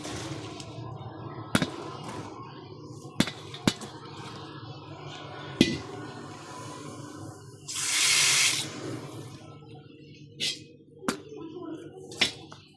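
Hot water from a batch of homemade chili sauce is drained into a kitchen sink: a short splashing gush stands out among sharp utensil clacks and a low hum, with voices nearby.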